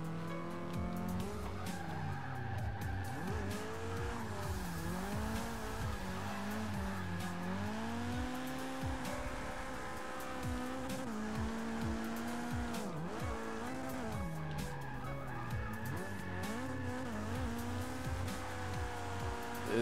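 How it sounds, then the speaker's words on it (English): A car in the Forza 6 racing game spins out, its tires squealing in long wavering skids over a steady engine drone, loud and sustained for the whole stretch with no talk. "I'm spinning out, I'm not even on the wheel"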